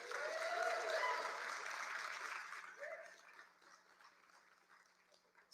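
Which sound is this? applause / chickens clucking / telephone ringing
applause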